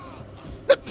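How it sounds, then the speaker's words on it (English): One quick, abrupt sneeze, close and moderately loud, bursts out after a moment of quiet background. "I'm gonna sneeze."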